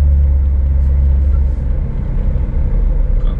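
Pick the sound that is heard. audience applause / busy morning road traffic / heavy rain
busy morning road traffic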